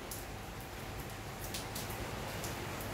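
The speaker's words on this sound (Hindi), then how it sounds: "रेगुलर बारिश हो रही है" Steady rain falling at a small zoo, a soft even hiss of drops with a few louder spatters, faint and continuous with no voices.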